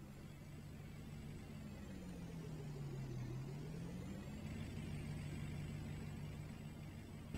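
A Ford F-250 work truck hauling a heavy load drives along, its engine a steady low drone with a gentle rise and fall in pitch under constant road noise, heard from inside the cab.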